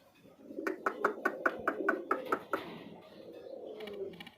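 Pigeons at a farm that sells local and foreign breeds coo in a close, rhythmic series of about ten soft pulses, then settle into a quieter, drawn-out murmur.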